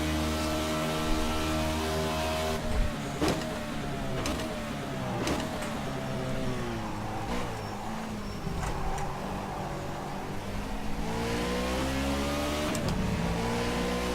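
Race car engine in rFactor 2, an LMP against NASCAR at Le Mans, revving hard and climbing through the gears, its pitch rising then dropping sharply at each shift, loud and steady throughout with no talking.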